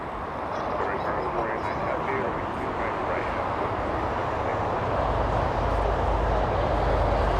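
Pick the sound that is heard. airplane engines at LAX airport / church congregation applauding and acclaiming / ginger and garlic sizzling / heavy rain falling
airplane engines at LAX airport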